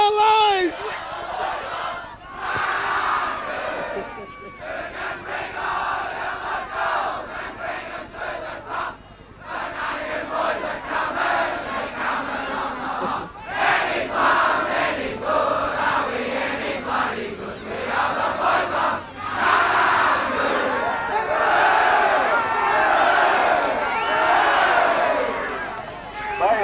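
A football club crowd roars, cheers and chants in a dense, loud wall of shouting voices after a 1980 senior grand final win, with overlapping yells and surges throughout.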